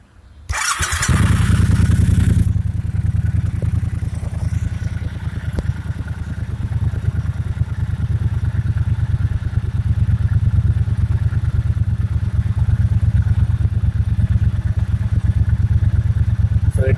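A 2018 Triumph Bobber motorcycle fires up with a loud burst, then settles into a steady, throbbing idle close by that runs on evenly with no talk.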